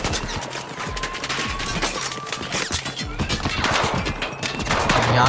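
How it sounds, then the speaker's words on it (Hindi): Rapid bursts of automatic gunfire in Battlefield 4, Tashgar mission, rattle continuously with overlapping shots and impacts, loud and dense throughout. "अब यहाँ गोली बरसाने शुरू कर दी इंजन वाले ने।"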